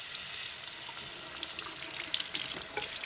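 Water runs steadily from a sink tap as a varnish brush is rinsed clean. The flow makes a soft, continuous hiss with a few faint splashes.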